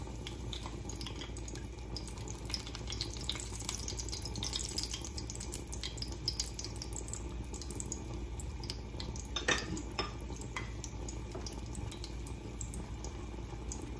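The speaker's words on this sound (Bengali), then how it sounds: "শুকনা মরিচটা আমি প্রথমে একটু ভেজে নেব।" Four dried red chillies fry in mustard oil, giving a steady, close sizzle and bubbling with faint clinks of a utensil against the pan throughout.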